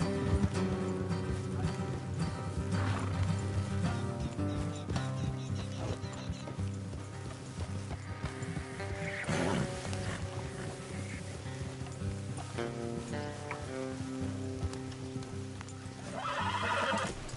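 Horses snort and whinny over steady hoofbeats and rumbling movement in Red Dead Redemption 2, with a dense, busy mix of game-like action sounds throughout.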